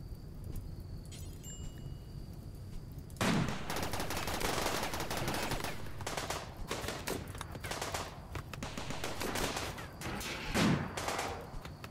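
Gunfire crackles through a firefight in the video game RimWorld, rapid overlapping bursts of shots starting a few seconds in and continuing in waves over a faint insect-like ambience.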